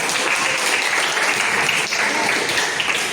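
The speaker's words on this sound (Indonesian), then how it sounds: "Kita tepuk tangan dulu semuanya." Students in a classroom clap together, a dense and steady burst of applause that stays loud and even from start to end.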